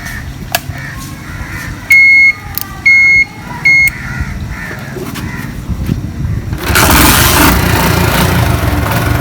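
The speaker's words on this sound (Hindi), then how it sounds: "तो मोटरसाइकिल स्टार्ट हो चुकी है" A motorcycle in a village lane sits quietly while crows caw and a few short electronic beeps sound, then its engine starts and runs with a loud, steady roar.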